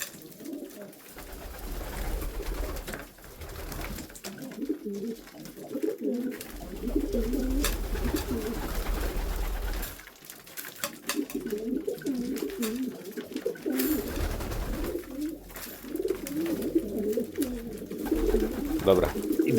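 White homing pigeons coo repeatedly in a new loft, a steady chorus of soft, rolling calls close by, with occasional quiet voices and handling noise underneath.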